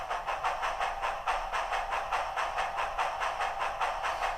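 Steady rhythmic steam exhaust chuffs from the sound decoder of an Athearn Challenger model steam locomotive working under load, with even, hissing beats repeating about three times a second at a constant level.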